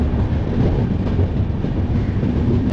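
Ruposhi Bangla Express 12883 rumbles along the rails, a loud, steady, continuous roar with a faint rhythmic rattle of the carriages and no pauses.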